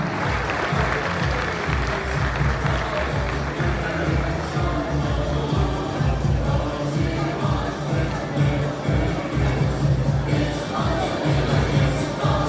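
An audience at a half-marathon awards ceremony applauds the 10 km women's champion, steady crowd clapping holding for the whole stretch with scattered voices beneath.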